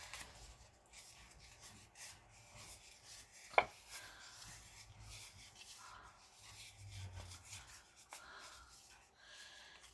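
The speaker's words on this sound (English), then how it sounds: "I'm going to Mountain Valley fold this one." Paper is creased along mountain and valley folds with a bone folder, soft dry rubbing and scraping strokes recurring through the stretch, with one sharp tap partway in and no talking.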